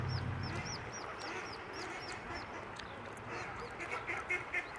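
Ducks on the water with their ducklings, a string of rapid quacks and soft peeps, some close and some farther off, over faint background noise.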